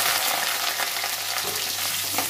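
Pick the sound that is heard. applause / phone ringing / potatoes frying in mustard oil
potatoes frying in mustard oil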